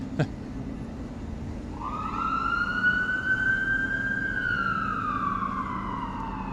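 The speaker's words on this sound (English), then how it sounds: "There's sirens going." Emergency vehicle sirens on a Toronto street at night, a clear rising wail that sweeps up and holds over a steady background traffic rumble, moderately distant, with no talk.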